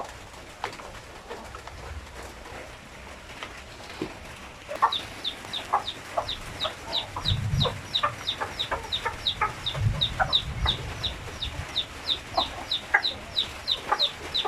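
RTL Basilan chickens cluck on a farm, joined by rapid high chirps of chicks, many repeated calls at close to moderate distance over a soft outdoor background.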